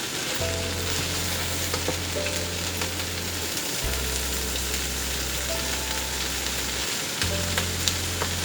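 Onions fry in unsalted butter in a pot, giving a steady close sizzle and crackle throughout, with low hum in the background and no talking.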